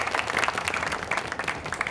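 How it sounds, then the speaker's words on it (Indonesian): Studio applause for three quiz teams on a televised quick-answer competition, a short burst of brisk clapping from a small group at moderate loudness. "Kita berikan tepuk tangan untuk regu A, B, dan C"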